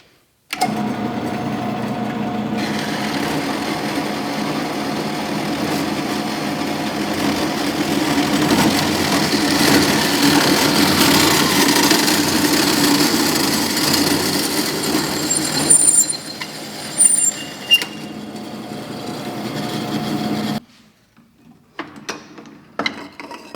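A saw runs steadily through a piece of wood being cut at an angle of about 22 degrees, a continuous loud whine with a low hum lasting about twenty seconds, then stops abruptly and leaves faint clatter.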